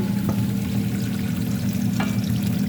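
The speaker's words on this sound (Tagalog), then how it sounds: "ka-brown muna natin ang ating sibuyas guys" Onions fried until brown in a pan, a continuous close hiss of frying with a low steady hum and a couple of light clinks, no talking.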